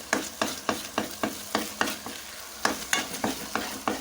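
Starch halwa paste being stirred with a spoon in ghee, a steady rhythmic scraping repeating about three times per second, close and clear over a soft sizzle.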